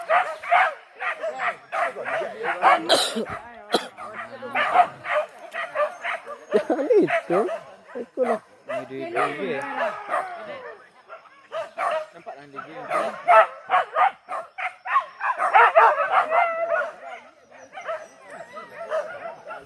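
Hunting dogs bark, yip and whimper during a morning wild boar hunt in the grassland, with many close, loud barks in quick uneven bursts throughout, mixed with people talking.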